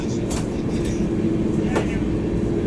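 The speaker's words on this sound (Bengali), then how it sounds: "ট্রেন এখন বিহারের ভাবুয়া রোডে ঢুকছে" Kalka Mail, also called the Netaji Express, rolling into Bhabua Road in Bihar: a steady, loud low rumble of the moving train with brief brighter rattles, heard from inside the carriage.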